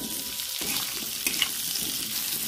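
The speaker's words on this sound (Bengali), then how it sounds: "আলুটা দিয়ে দিয়েছি এবার একটু ভেজে নেবো" Potatoes and onions fry in a pan for a Bengali jhinge alu posto dish, with a steady close sizzle and a few stirring clatters.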